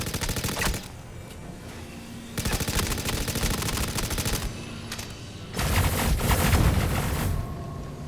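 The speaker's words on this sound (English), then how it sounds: "As soon as I took him out, gunfire erupted from somewhere but quickly ceased." Bursts of rapid automatic gunfire ring out in the space game Star Citizen, three dense volleys broken by short pauses. The crackling fire sounds fairly close and dominates the scene, with no voices.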